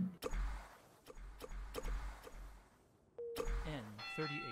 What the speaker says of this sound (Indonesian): Oh, bel sekolah.